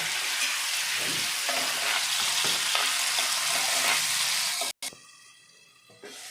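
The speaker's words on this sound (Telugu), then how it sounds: "ఇలా టమాటా ఫ్రై అవుతుంటుందండి" Chopped tomatoes sizzle steadily in hot oil with occasional stirring scrapes, a close, fairly loud fry that cuts out abruptly near the end and resumes more quietly.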